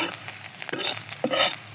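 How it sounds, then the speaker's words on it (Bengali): Jackfruit seeds fry with onion and chili in a little oil, making a soft crackling sizzle broken by a couple of louder stirring scrapes, close up, with no voices. "এখন আমি কাঁঠালের বিচিগুলো দিয়ে দেবো ভাজা"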